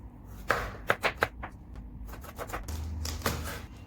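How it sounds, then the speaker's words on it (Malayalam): Knife chopping onion on a board for shahi paneer, a few crisp separate taps with uneven gaps and softer cuts after them, close and fairly quiet. "സബോള കട്ട് ചെയ്തെടുക്കുക ആദ്യം തന്നെ."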